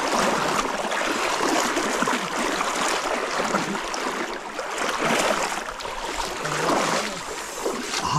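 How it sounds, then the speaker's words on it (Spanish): A strong river current rushes loudly and continuously during a crossing on foot, a dense, close roar of churning water that swells and eases without a break. "¿cómo está la corriente de fuerte?"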